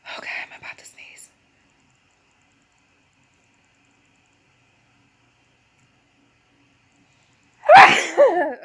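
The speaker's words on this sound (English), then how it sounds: "I'm about to sneeze" A single sudden sneeze bursts out close and loud near the end, after a stretch of near silence that follows a few faint breathy sounds at the start.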